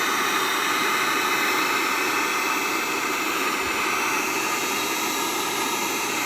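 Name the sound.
heating a Mandalorian helmet visor to melt the glue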